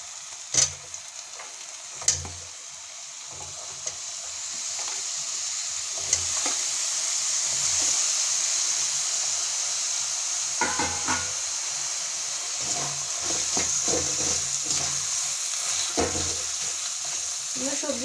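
Chopped vegetables for pav bhaji drop into oil and spices already cooked down, bursting into a loud steady sizzle and hiss with scattered sharp knocks and scrapes of stirring, and no one speaking.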